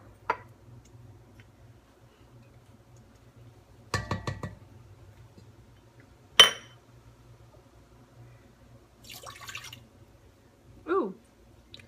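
Water goes into a kitchen mix for homemade marshmallows, with a few sparse glassy clinks and drips spaced seconds apart, faint and close against a quiet, low background hum.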